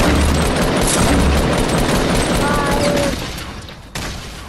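Dense, loud gunfire and explosive bursts in a Fortnite match, continuous for about three seconds before thinning out, with a sharp hit near the end.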